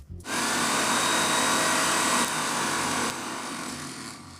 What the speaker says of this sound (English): Now I'm putting the lid back on and here we go, we can start blending everything.